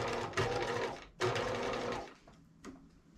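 A sewing machine backstitching a capelet runs in two steady whirring bursts with a short pause between, then stops and gives a brief click near the end.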